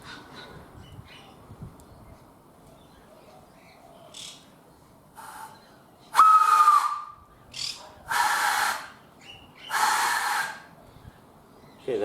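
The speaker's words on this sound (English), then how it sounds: "one of the chimes that play the whistle is not working, so it'll sound like a squeaker" A locomotive whistle with one chime not working gives short, reedy squeaker-like blasts in a few bursts separated by gaps, with hissing air and faint background noise between them.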